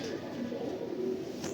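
Pigeons coo softly in a loft, a low continuous murmur of calls that stays faint and steady, with no speech.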